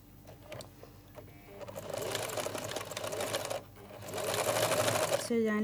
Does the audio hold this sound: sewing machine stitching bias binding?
yes